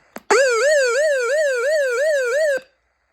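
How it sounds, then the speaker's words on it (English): A loud electronic SOS siren from an Eton FR250 emergency crank radio, warbling rapidly up and down in a steady repeating pattern, starting after a brief click and cutting off abruptly. "I guess that's like an SOS siren."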